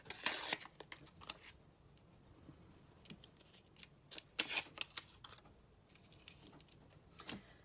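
Scissors cutting paper for an A3 collage, quiet close snips and rustles in irregular bursts, with a few sharper clusters of cuts.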